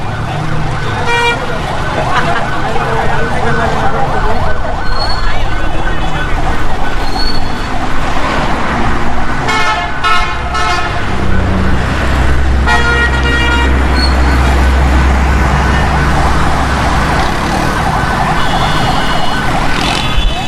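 Jammed night traffic on Shahrah-e-Faisal in Karachi beside a burning tower, with loud repeated car horns, wailing emergency sirens and a steady engine rumble, busy and close, with voices faintly underneath.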